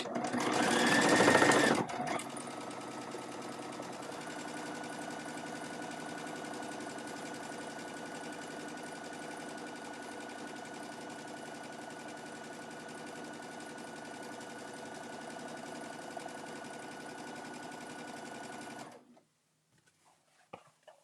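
A sewing machine top stitches a bag with a long stitch length, running as one continuous, even whir for most of the stretch after a brief louder handling noise at the start, then stopping into near silence.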